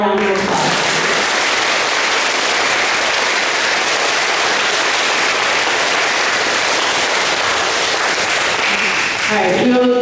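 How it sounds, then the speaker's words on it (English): Loud, continuous audience applause at a fifth-grade graduation ceremony, a thick unbroken roar of clapping that briefly gives way to voices at the very start and end. "Could we give them all a round of applause?"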